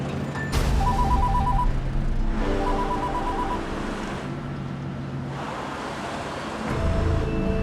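A telephone rings unanswered in a drama scene, with repeated electronic ring bursts over a steady wash of background noise like surf or wind.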